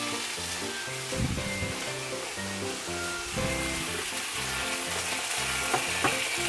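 Garlic and onion sauté in a hot pan while food is cooked for a Christmas party, giving a steady, close sizzle with faint clinks, over a low, tonal background hum that sounds like music.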